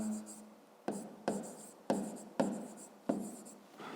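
Handwriting on paper while working a fifth-grade maths exercise, a series of about six distinct pen strokes and scratches in an irregular rhythm, close and fairly quiet.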